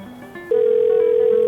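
A mobile phone rings with a steady electronic tone that starts abruptly and holds loud and clear. A short, softer tone comes just before it.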